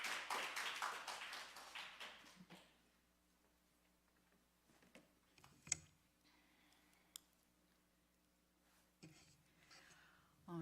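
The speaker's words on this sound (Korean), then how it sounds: "박수로 환영하겠습니다." An audience at a church Bible college session claps in welcome for a presenter, a brief burst of applause in the first couple of seconds before fading into a quiet room with scattered taps and faint noises.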